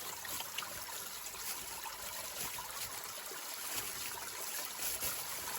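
A natural spring trickles in the wild, a faint, steady wash of flowing water with soft dribbling detail and no voices.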